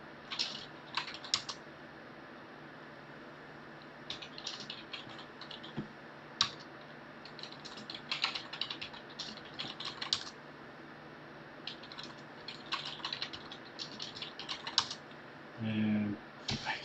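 Irregular bursts of clicking keystrokes on a computer keyboard, close and fairly quiet, with short pauses between flurries of typing while setting up King's Quest 1 on OS/2; a brief low thump near the end.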